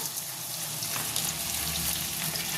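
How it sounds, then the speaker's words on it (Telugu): Cumin seeds frying in oil in a pan for an Andhra-style curry, giving a steady, close, moderate sizzle with a faint watery crackle throughout and no voices. "జీలకర్ర వేగిపోతుంది."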